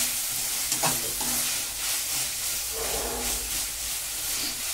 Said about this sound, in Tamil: தக்காளி நல்லா வதங்கிருக்கோம்.